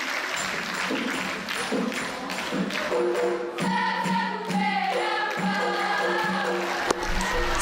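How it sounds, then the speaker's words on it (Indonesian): Gayo dancers of the Saman dance clap their hands in rapid, tightly synchronized bursts, loud and near, with chanted voices woven among the claps and no instruments. "tari saman biasanya tidak menggunakan iringan musik, melainkan mengandalkan suara penari dan tepukan tangan"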